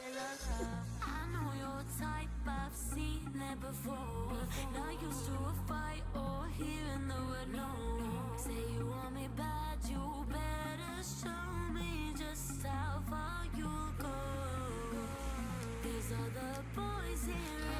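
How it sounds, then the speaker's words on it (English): Dense electronic dance music plays continuously with a heavy pulsing bass and layered synths, a steady, full-volume drop without any voices. "That's the signature sound. It's the drop,"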